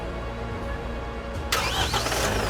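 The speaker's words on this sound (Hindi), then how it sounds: "ये आपकी गाड़ी चालू हो गई है" A Tata Motors car engine cranks with a starter whirr and catches abruptly at about a second and a half, settling into a loud steady idle during a battery and alternator check.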